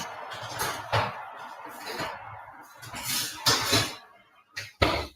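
A loaf of no-knead bread going into a kitchen oven, heard as a few clanks and clatters of the tray and oven door, with soft scraping and squeaks in between.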